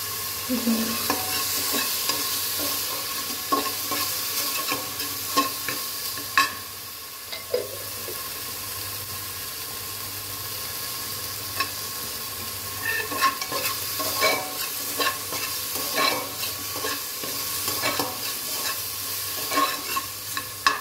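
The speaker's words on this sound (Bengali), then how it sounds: "এই যে চটপট করছে মানে এটা ভাজা ভাজা হয়ে গেছে" Rice fries and crackles in a hot pan while being stirred with a ladle, giving a steady close sizzle broken by frequent sharp pops and scraping strokes.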